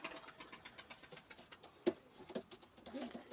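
Pigeons for sale, including tumbler and Arab breeds, coo softly nearby, with low throaty calls and a bit of fluttering and patter in a quiet background.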